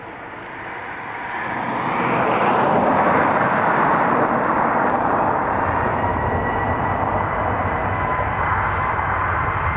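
Airplane taking off at Dublin Airport, a loud, continuous broadband engine roar that swells over the first few seconds and then holds steady and heavy, close by, with no talk over it.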